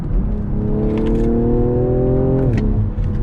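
A 2020 BMW M340i engine revving on a downshift, a close, loud rising whir held for a couple of seconds before the pitch drops away.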